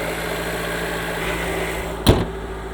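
A cold 2024 Alfa Romeo Tonale Ti PHEV with a 1.3-liter engine idles slightly high, a loud, steady, close droning hum with one short thump partway through.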